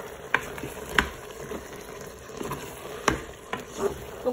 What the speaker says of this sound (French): On mélange tout ça.